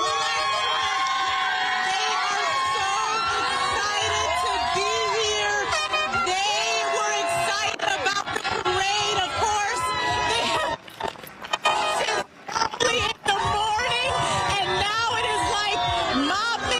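A large crowd of Dodgers fans cheers and shouts at the World Series championship parade, loud and sustained, with high-pitched yelling throughout and a brief dip near the end.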